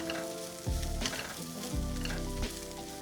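Crispy beef sizzling in a hot pan with cheesy French fries tossed through it, a steady bright fry hiss broken by a few louder scraping stirs.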